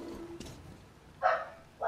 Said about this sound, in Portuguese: Olha os cachorros. Chama os cachorros.